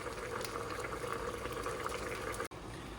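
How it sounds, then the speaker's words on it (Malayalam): Katsu curry simmering in a pot with its paste just added, bubbling in a steady, close, continuous boil with no talking over it. "അപ്പോൾ തിളച്ച് വന്നിട്ടുണ്ട്. അപ്പോൾ നമ്മുടെ കട്സു കറിയുടെ പേസ്റ്റ് നമ്മൾ ഇട്ട് കൊടുക്കുകയാണ്."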